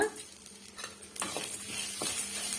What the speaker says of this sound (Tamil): இது போல வதக்கி எடுத்துக்கணும்